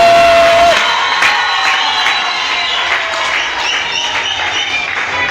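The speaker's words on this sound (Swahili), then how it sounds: "piga kelele, sema fire." A church congregation at a New Year's Eve 2026 overnight prayer service shouts, cheers and claps together in a loud, sustained roar, with scattered whoops rising above the crowd.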